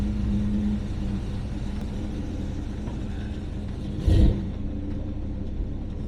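An old car without power steering backs out of a garage, a close, steady low engine rumble with a brief louder thump partway through and no one talking.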